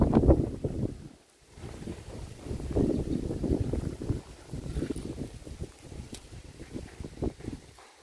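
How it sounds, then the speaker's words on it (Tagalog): Strong gusty wind from a storm buffeting the microphone in rumbling surges in a backyard garden, rising and falling, with no voices. "Lakas ang hangin ngayon guys."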